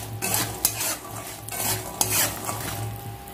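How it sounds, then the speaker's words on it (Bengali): Dried lentil dumplings (bori) frying lightly in salted oil in a pan, with a steady close sizzle broken by brief scrapes and clinks of a spatula stirring against the pan, no voices. "বড়িগুলো ভেজে নেবো হালকা করে।"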